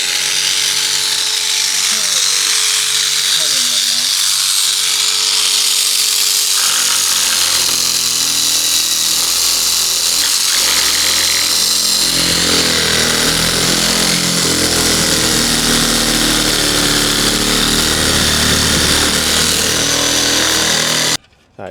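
Power tool cutting away plastic on a BMW M3 front bumper, a loud close rasping buzz that varies in pitch and bites harder midway, running continuously before stopping abruptly.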